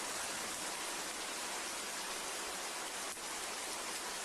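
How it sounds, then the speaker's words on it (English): Warm rain pours down in a steady, loud, even hiss that fills the scene without pause, with no voices heard. "But it's a warm rain. It's almost like a very warm shower."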